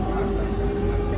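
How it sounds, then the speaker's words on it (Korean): Steady low rumble inside a second-class train carriage travelling in Portugal, continuous and even throughout. "이제 기차 타고 갑니다"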